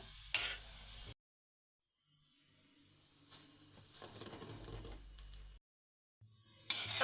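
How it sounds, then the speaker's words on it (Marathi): Khoya gulab jamun frying in oil over a low flame, a soft steady bubbling sizzle broken by two short silent gaps, with a few louder spatters near the start and end. "गुलाबजाम आपल्याला हे मंद आचेवरती एकसारख्या रंगावरती तळून घ्यायचे आहेत"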